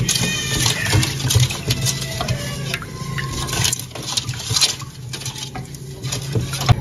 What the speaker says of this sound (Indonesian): Aduk-aduk sebentar, pastikan tidak ada adonan yang menggumpal.